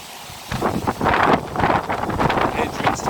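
Gusty wind sweeps across a dahlia field in August, buffeting the microphone with loud, rough rumbling bursts that begin after a brief quieter moment and keep surging.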